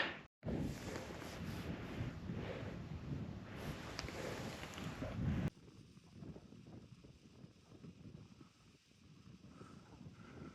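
Wind buffets the microphone on open fells in the Forest of Bowland, a loud, rough rumbling roar that drops abruptly halfway to a quieter, gusty hiss.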